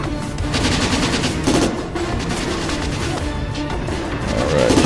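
Dense, continuous video-game gunfire from Syphon Filter: Logan's Shadow on PSP, automatic bursts and crashing impacts filling the whole stretch at steady loudness, with no talking over it.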